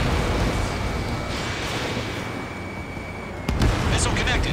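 Missile launch and explosion in the jet combat game Ace Combat 7, a loud, steady roar of engine and weapon noise with a sudden sharp burst near the end and crackling aftermath.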